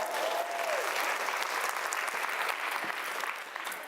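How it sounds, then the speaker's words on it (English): An audience claps steadily for a volunteer at a small magic show, a dense, even round of applause from a full room that holds strong throughout and tapers slightly at the end. "Let's give her a round of applause,"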